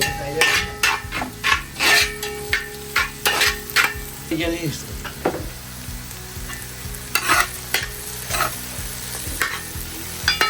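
Onions sautéing in a pan with turmeric powder added, a soft sizzle punctuated by loud, irregular spatula stirs and scrapes against the pan, no voices.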